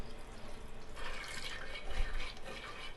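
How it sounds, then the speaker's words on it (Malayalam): Water poured into a pot of soaked green gram for Kerala-style sukhiyan, a steady near splashing and trickling pour that swells after the first second and runs on to the end. "ഇനി ഇതിലേക്ക് ആവശ്യത്തിന് വെള്ളം ഒഴിച്ചു കൊടുക്കാം."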